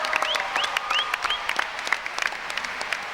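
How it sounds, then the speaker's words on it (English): A live audience applauds a behind-the-scenes panel discussion, with steady close clapping lasting the full stretch and several sharp rising whistles cutting through early on. "Can we have a round of applause?"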